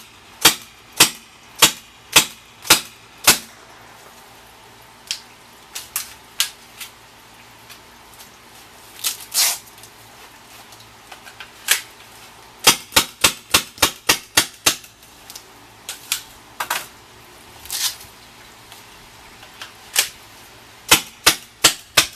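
A CO2-powered Tippmann TPX paintball marker firing, sharp snapping shots up close, singly and in quick irregular clusters with short gaps between them.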